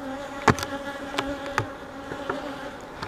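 Honeybees buzz at an open hive in a steady close hum, with a few louder passes as single bees fly right by.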